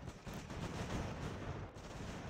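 Sustained roar of massed cannon and musket fire from a battle in the video game Ultimate General American Revolution, dense and continuous throughout with no clear gaps, loud and without voices.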